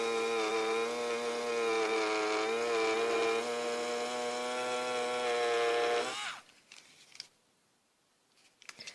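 A Sumo Grip EE3000 battery electric eraser runs with a steady high-pitched motor whine for about six seconds, close and alone, then stops, leaving faint handling sounds.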